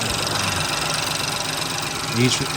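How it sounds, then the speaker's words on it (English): A 2017 Ford Focus engine idling with a steady low rumble and slight knock, running rough as coil pack connectors are pulled one at a time, with a brief louder surge near the end. "After I pull each one, it definitely bogged the engine down"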